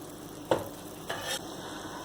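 Guava jam gets stirred in a pot over a low flame, faint bubbling simmer under two brief scraping sweeps of the spoon, close and quiet with no talk.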